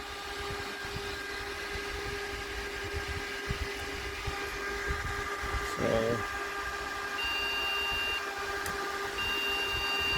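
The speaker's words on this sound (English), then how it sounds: "I've got a continuous beep" A steady electronic beep drones on over the whir of cooling fans in an old Intel server, with a brief clunk midway and higher tones chirping near the end.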